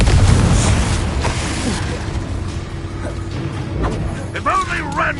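A Confringo fire spell explodes in Hogwarts Legacy with a loud, close boom at the start that rolls off into rumbling game noise, and a voice is heard later.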